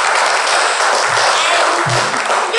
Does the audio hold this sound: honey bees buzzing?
no